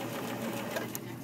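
Sewing machine back stitching at the edge of denim fabric, a close, steady rapid whirring hum of the needle mechanism running without pause.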